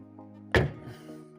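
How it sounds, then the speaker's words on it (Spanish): The cab door of an Iveco S-Way truck shuts with a single dull, muffled thunk at close range, followed by a brief fading resonance, no voices present. "Apenas se ha escuchado la puerta"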